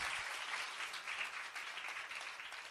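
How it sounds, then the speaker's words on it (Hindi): Audience at a spiritual lecture on sanskaras and Vedic rites clapping loudly and continuously, a dense, even roar of many hands that tapers slightly at the close. "ताली बजाओ तो अच्छी तरह बजाना चाहिए,"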